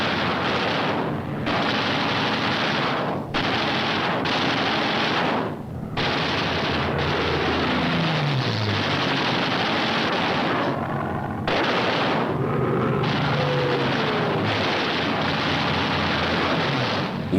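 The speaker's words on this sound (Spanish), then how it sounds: "topándose con la mortífera ráfaga de las ametralladoras de los bombarderos" Bomber machine guns fire repeated bursts at attacking Japanese fighters, loud and dense, with short pauses between volleys and the whine of passing aircraft sweeping down in pitch.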